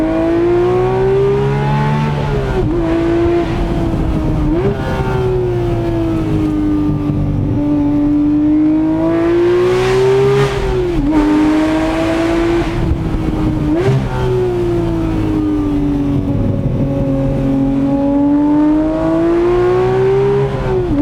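Porsche 991 Speedster flat-six engine revving hard, a loud close mechanical howl that climbs repeatedly through the rev range with brief dips at each gear change, running continuously with no talk over it.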